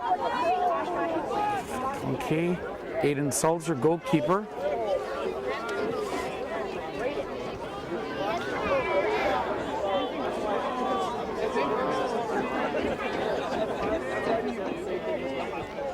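A crowd murmurs in the stands at a high school soccer match between Oshkosh West and Neenah, a steady babble of many voices throughout, with a nearby announcer talking over it.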